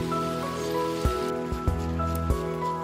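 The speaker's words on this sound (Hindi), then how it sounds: "बारिश ही बारिश दोस्तों" Steady rain patters on a house rooftop in a constant hiss, with a few louder drips or knocks and a droning tonal hum running underneath.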